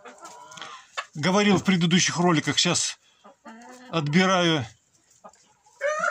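A flock of Pushkin breed hens and a rooster cluck and squawk in a barn, close and loud, mixed in with someone talking in Russian.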